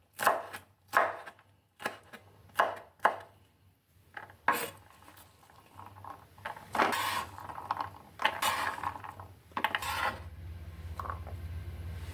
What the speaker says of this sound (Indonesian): Daun bawangnya sudah dicuci bersih, lalu dipotong-potong kecil.